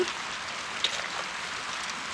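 Steady rain falls on a garden with clay soil, a soft even hiss of drops with one brief louder patter, close and continuous with no talking.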